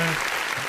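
Short burst of dense applause, loud and steady, ending quickly as a podcast episode opens.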